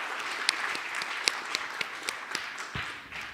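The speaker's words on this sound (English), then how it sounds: "A round of applause for the panelists here." Audience applause for the panelists at an agricultural finance learning event, a steady spread of clapping across the room with a few sharper nearby claps standing out, fairly soft and continuous for a few seconds.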